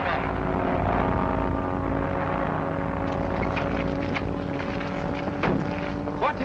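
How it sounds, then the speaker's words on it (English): A 1930s propeller airplane lands in a field, its engine droning steadily with a low, tonal hum and wind noise throughout, fairly loud and close, with faint voices underneath. "Barry Higgert is landing in the field"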